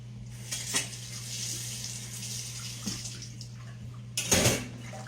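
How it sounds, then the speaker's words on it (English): Dishes being washed and rinsed under a running hot-water tap in a home kitchen, with a steady stream of water and a few clinks of dishware, and a louder splash near the end. "if you rinse your dishes in really hot water, they dry almost immediately"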